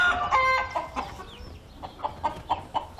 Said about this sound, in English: Dozens of roosters, hens and chicks gathered around the car park at the Titirangi War Memorial Park today